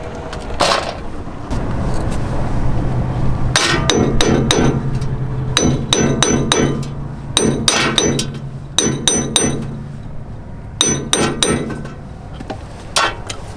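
A hammer strikes a van's wheel part tucked behind the brake shroud, in loud metallic blows that come in quick bursts of several hits separated by short pauses.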